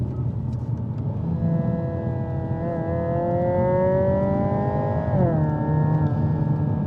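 Hyundai i30 Sedan N (Elantra N) playing its artificial TCR race car engine sound, a loud close drone whose pitch climbs steadily then drops sharply near the end before settling, with no talk.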